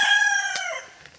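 The tail of a rooster crow from a neighbouring yard trails off, followed by a faint sharp hen cluck or two.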